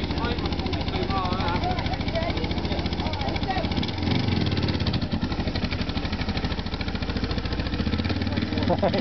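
A motorcycle engine runs at a scooter contest, a steady, buzzing harmonic drone with slight shifts in pitch, heard close under people talking.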